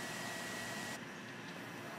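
A constant whooshing blower hum of a hair dryer forcing air into a homemade coal forge for smelting aluminum cans, steady and close, with the hiss dropping slightly midway.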